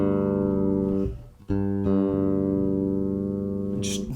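A bass guitar string is plucked while tuning, giving a deep sustained note that rings out, is briefly damped and re-plucked, then sustains again, with a small bright scrape at the end.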